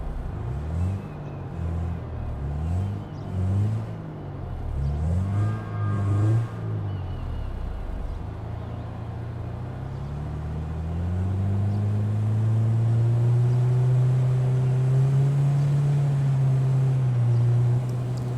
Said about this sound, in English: can I just take a moment to appreciate the sound of this car too?